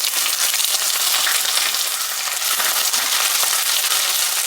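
Onions with garlic and dried red chillies frying in a pan, a loud, dense and steady close sizzle with no pauses.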